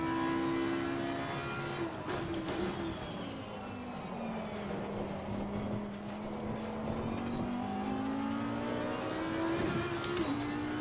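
A Lamborghini race car engine in Assetto Corsa Competizione drones loud and steady throughout, its pitch sagging and climbing through gear changes as it runs in the slipstream of another Lamborghini.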